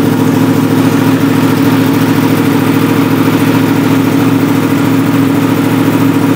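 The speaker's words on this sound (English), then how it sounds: "So that's cold start." A Yamaha R1M sport motorcycle with a full Akrapovic titanium exhaust idles steadily after a cold start, giving a loud, close, even engine drone with no talking.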